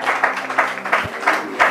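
An audience claps and applauds at a French-language Bible teaching session, a quick burst of brisk, fairly close clapping with rhythmic peaks.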